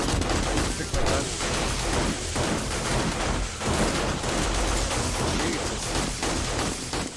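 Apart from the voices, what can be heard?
gunfire from the video game 7 Days To Die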